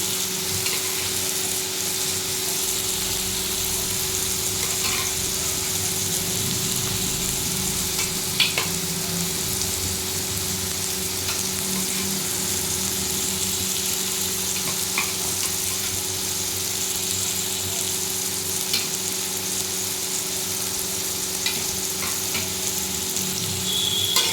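Ginger, cumin, green chili and turmeric spice paste fries steadily in a pan for Bengali hilsa curry, a close, continuous crackling sizzle with occasional stirring scrapes and no talking.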